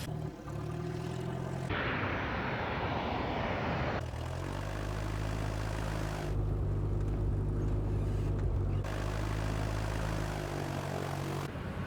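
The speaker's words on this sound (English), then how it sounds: "We've got a lot of airplane taxiing out." Airplane engines drone steadily at a distance, a low continuous rumble that shifts in tone as aircraft taxi, with no voices.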